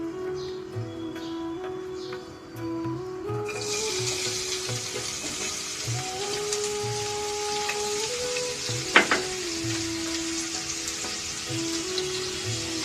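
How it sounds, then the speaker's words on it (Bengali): Sliced onions frying in oil for Murshidabadi Shirazi chicken korma. A steady close sizzle swells louder after a few seconds, with faint stirring scrapes and one brief sharp clink partway through. "সেই পেঁয়াজটি এবার আমি এই তেলের মধ্যে দিয়ে ভেজে"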